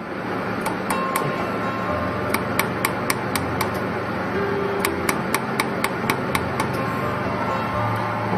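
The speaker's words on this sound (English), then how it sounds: "I just grabbed this piece of steel that was laying in the bottom of the laser and" A jewelry laser welding machine welds a piece of steel, firing sharp, evenly spaced ticking pulses in two rapid series over a constant loud mechanical hum.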